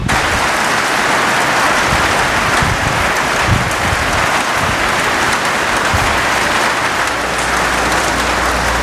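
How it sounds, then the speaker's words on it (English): Heavy rain drums steadily on a barn roof, a dense, even hiss that stays loud and unbroken throughout, with faint low thuds beneath it. "The rain's just been horrific for the past hour or so."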